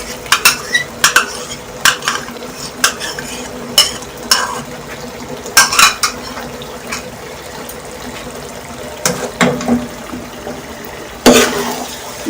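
Yogurt being stirred into frying masala in a pot for masoor biryani, a spoon clattering and scraping against the metal in irregular bursts over a low sizzle, close and fairly loud.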